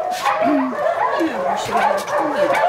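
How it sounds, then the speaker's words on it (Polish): A frightened female dog and a small male dog yip, whimper and bark in quick, high bursts close by, with someone speaking over them. "to co podskakuje to jest suczka, obok niej jest piesek"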